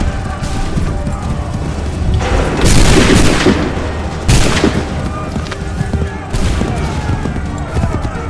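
Ship cannons and musket volleys in Assassin's Creed 3 Remastered boom in several heavy bursts, with loud blasts and crackling fire overlapping amid a noisy battle backdrop.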